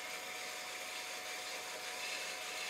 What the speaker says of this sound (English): it's time to cut off the end part using the bandsaw